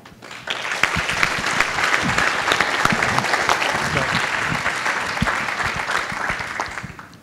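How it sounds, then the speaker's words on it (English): A room at a startup pitch night breaks into sustained applause for the participants, steady dense clapping that holds for several seconds before fading, with a few voices faintly mixed in. "I give all of the participants a huge round of applause"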